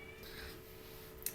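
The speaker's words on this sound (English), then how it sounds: "I'm so sorry if you guys hear a cat in the background." A cat meows somewhere in the background of a quiet room, faint and brief, with a sharper cry near the end.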